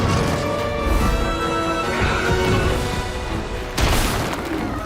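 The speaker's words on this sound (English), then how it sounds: "Oh, the rock launcher." Rock launcher attack in Monster Hunter Stories 2, heavy booming impacts and crashing hits over a steady game music bed, with a sharp loud burst near the end.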